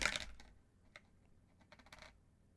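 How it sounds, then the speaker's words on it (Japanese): Two dice are shaken and rolled across a hard surface, a sharp clatter at first followed by scattered light ticks and rattles as they tumble and settle, close and quiet, with no talking. "サイコロ2つ振って足した合計ランダマイズで1と1の2は振り直しです"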